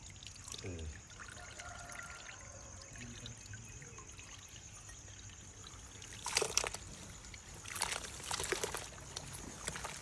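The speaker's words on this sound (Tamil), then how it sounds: "ஊற்றிடு ஊற்றிடலாம் ஊற்றிடுவோம்." Liquid poured during a housewarming ceremony in Tamil Nadu, a low trickling pour under quiet room ambience, with louder splashing bursts near the middle and end and faint talk in the background.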